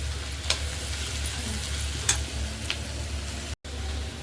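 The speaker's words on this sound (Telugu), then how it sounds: "దొండకాయ ఫ్రై అవుతుంది." Ivy gourd (tindora) frying in a pan, an even, close sizzle with a few light stirring scrapes, heard alone without speech.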